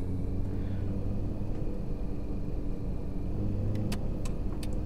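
A car drives steadily in Taxi Life with a low, continuous engine rumble, close and even, with a few faint clicks near the end.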